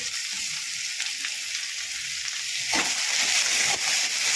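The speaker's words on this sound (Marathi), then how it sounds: "त्या छान परतून घ्यायच्या आहेत।" Onion, tomato and chopped vegetables sauté in a pan for a quick vermicelli breakfast, giving a steady, close frying sizzle that grows slightly louder and busier partway through, with no voices.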